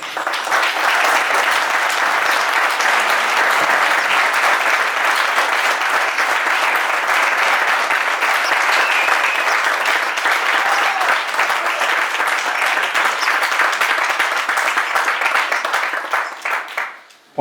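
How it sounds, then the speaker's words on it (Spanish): An audience at an olive-growing conference in Almedinilla gives a speaker, Francisco, sustained, steady applause, a dense and even roar of clapping lasting many seconds before stopping abruptly. "yo voy a pedir un fuerte aplauso para Francisco"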